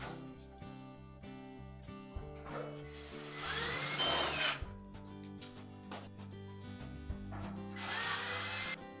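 Power drill driving screws into the side panels of a Maytag dryer, bursts of whirring motor with metallic scraping, moderately quiet and close, with gaps between runs.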